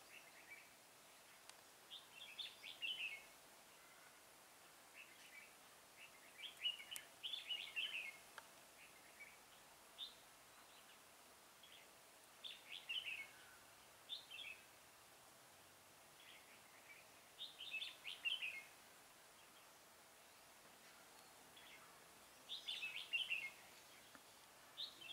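A red-whiskered bulbul call plays from a bird-lure device in a bird-trapping setting, short chirpy phrases repeating every few seconds, faint and distant over a soft hiss of outdoor background.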